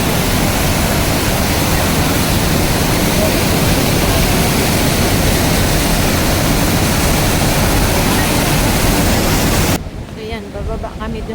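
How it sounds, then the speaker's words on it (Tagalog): Rhine Falls in Switzerland roars as a loud, continuous wall of rushing water close by, filling the whole clip before cutting abruptly near the end, with faint talk underneath. "Lapit ko sa waterfall."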